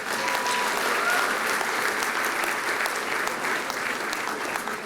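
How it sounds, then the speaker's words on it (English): An audience at an awards dinner for chefs gives a long, even round of applause, thick continuous clapping from many hands with faint voices underneath. "A round of applause for Curry Life."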